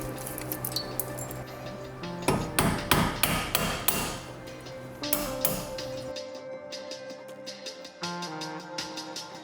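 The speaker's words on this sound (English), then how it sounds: "lefty loosey, get it tight lefty, and you just hit it with a hammer." Hammer striking a rusted brake rotor on a 2012–2017 Hyundai Accent or Kia Rio during a brake job, a rapid series of sharp metallic blows at close range, then lighter scattered taps, with no talking.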